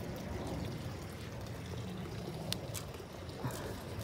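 Water trickles and pours steadily through a pipe fitted into a solar panel water adapter, a continuous close, moderate splashing stream with a couple of brief sharper drips.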